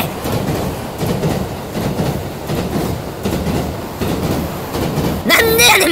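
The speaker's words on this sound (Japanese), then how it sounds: "もう電車来るねんて" A train approaching a station platform, rumbling steadily under a busy crowd with speech, then a sharper metallic rush as it arrives near the end.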